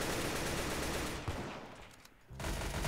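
Rapid gunfire rattles on in the Roblox game Arsenal, loud and dense, easing off briefly before a burst resumes near the end.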